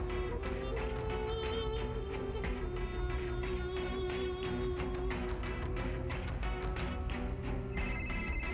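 A telephone rings faintly in an indoor scene, with repeated electronic rings over a low background murmur.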